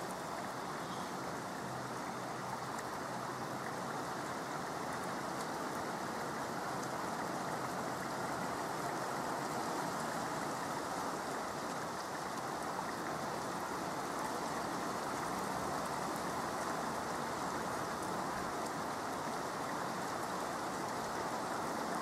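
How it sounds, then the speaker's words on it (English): Steady, even rain hisses continuously, sounding slightly muffled as if heard from indoors, with no voices. "Got the window open as well so that you can hear the rain better."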